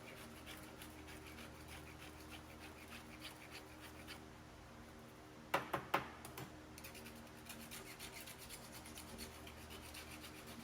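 Scraping material off the inner quarter rocker panel of a 1959 Cadillac, a faint steady rasping under quiet background noise, with a brief cluster of sharper scrapes partway through.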